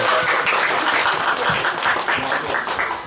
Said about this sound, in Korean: 다 같이 박수 한번 치고 하나님 앞에 나가도록 하겠습니다